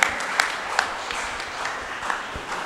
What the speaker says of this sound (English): Can I have claps?